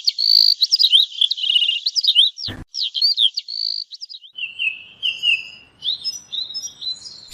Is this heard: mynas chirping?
yes